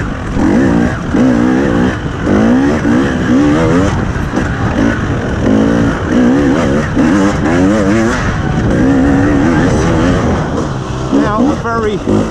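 A 2021 KTM 300 TPI two-stroke dirt bike fitted with a GET race kit, its engine loud and continuous as it rides, revving and changing pitch throughout with no break in the sound.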